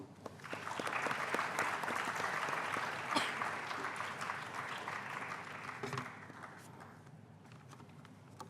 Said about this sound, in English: Please join me in giving a warm round of applause as we invite Professor Saini Das to felicitate him